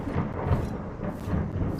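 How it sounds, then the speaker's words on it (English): Rolling thunder in a Minecraft world running the Create mod, a continuous low rumble with a faint rain-like hiss, steady and fairly loud throughout with no talking. "Why is there still thunder?"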